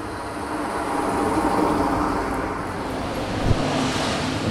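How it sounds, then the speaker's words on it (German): A car passes along a road outdoors in foggy Berlin, its steady broadband rush swelling and fading, with some wind noise against the microphone. "jetzt warten wir auf ein Auto"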